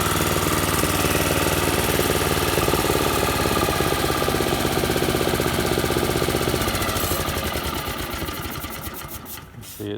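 A Toro 21-inch commercial lawnmower engine (model 22198) runs at a steady fast rattling chug, loud and close, easing slightly before a brief change at the end.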